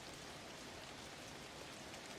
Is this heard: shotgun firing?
no